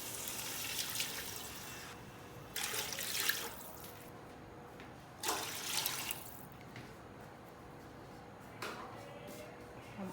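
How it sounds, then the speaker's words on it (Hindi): Water is poured into a cooking pot of rice with cumin seeds in three separate splashing bursts, close and soft, with quiet pauses between them and no talking. "तो इसमें पानी जाएगा 3 कप"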